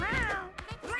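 A cartoon cat in the video game Mewgenics gives a short, bright meow with rising and falling pitch, close and clear, followed by a couple of brief chirps over faint game background.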